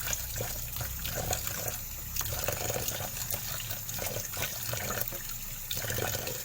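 Oyster mushrooms being rinsed under running water to wash off their slime, a steady close rush of tap water with splashing and trickling as the mushrooms are handled, continuous and fairly quiet, with no voices.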